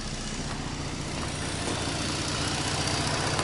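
A 2014 Ford Taurus Limited 3.5L engine idles steadily after a water pump replacement, a constant close rumble with a broad, even hiss and no change in pitch throughout.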